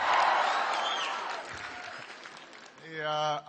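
A school assembly crowd cheers and applauds, loud and dense at first and then fading, before a voice cuts in at the end.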